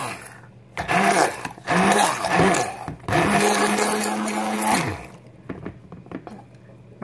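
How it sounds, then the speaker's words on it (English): Small mini food processor blending cottage cheese smooth: several short whirring pulses followed by one longer steady run, loud and close, then quiet handling clatter. "you could use a little mini food processor too"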